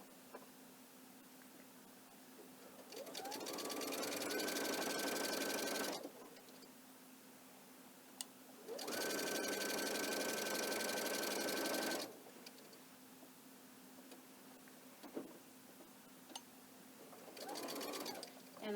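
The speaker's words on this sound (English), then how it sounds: "I'm going to continue sewing my binding down." A sewing machine stitches quilt binding down in two long steady whirring bursts with quiet pauses between them and a short start near the end. A faint low hum sits underneath.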